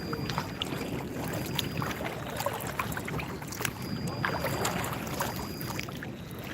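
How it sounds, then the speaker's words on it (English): A boat is paddled on a lake against the wind, with soft repeated paddle strokes and water splashes set against steady wind noise buffeting the microphone. "Paddling in the wind"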